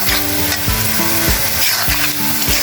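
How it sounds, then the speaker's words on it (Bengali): Dried fish fries with onions in a pan, a steady close sizzle with repeated stirring scrapes every half second or so, no voices. "এই যে পেঁয়াজের সঙ্গে আমি শুটকিটা ভাজবো, ভাজলে আর কি শুটকিটা খেতে ভালোই লাগে।"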